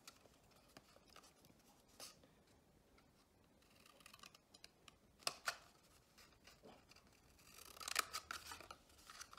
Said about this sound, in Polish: Teraz bierzemy nożyczki i odcinamy na cztery części, tak w sumie na długość nożyczek.